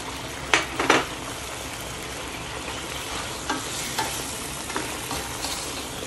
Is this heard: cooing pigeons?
no